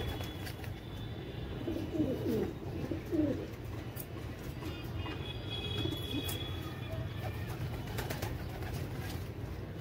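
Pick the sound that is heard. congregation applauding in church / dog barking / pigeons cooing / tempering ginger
pigeons cooing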